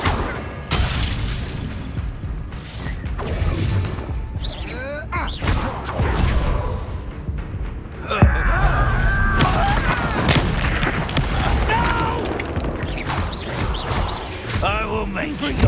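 A fiery Incendio spell goes off in Hogwarts Legacy amid a busy fight, giving booming, crackling bursts mixed with other spell impacts and voices talking throughout.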